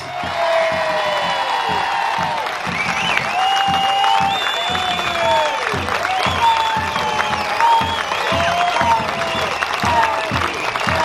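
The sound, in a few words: audience applause for Ricardo Bosi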